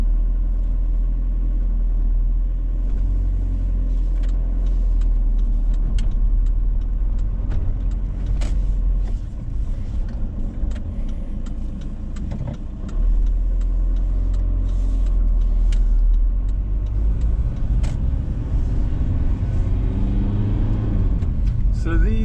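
A long-wheelbase, high-roof VW T5 camper van with a 1.9 TDI 102 diesel engine is driving along: a steady, heavy low rumble of engine and road noise runs throughout, with small knocks and rattles scattered on top.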